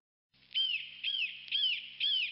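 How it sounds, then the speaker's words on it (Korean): A crow calls four times in an even rhythm after a brief silence. Each bird call is clear and fairly loud against a faint low hum, and no one talks over it. "방금 까마귀 BGM이 나왔네요"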